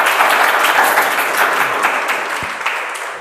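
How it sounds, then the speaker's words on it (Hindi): An audience gives a dense, sustained burst of applause to welcome a guest, steady clapping from many hands that eases off slightly toward the end. "एक बार जोरदार तालियों से स्वागत"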